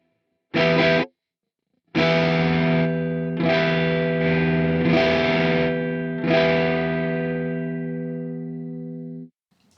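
Electric guitar through a Quad Cortex preset, starting with a short clean chord and moving into sustained, saturated overdrive chords, loud and ringing with a slow decay, heard alone.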